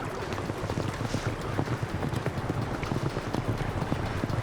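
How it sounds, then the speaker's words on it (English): A herd of running horses drums its hooves in a quick, irregular clatter that rolls on without pause, heard outdoors against a steady rush of wind. "They hear a bunch of hooves."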